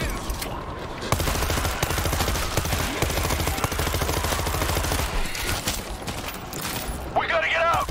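Rapid gunfire while shooting zombies in a video game, a steady run of close automatic shots, with people talking and shouting over it near the end.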